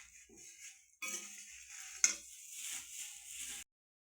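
Whole spices for garam masala, including Kashmiri chilli and coriander seeds, dry roasted in a pan, heard as soft scraping and rattling stirs in several short bursts with faint crackle and no talk.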